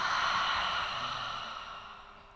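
A single deep, long exhale during yoga breathing, close and breathy, starting strong and slowly fading away over a couple of seconds.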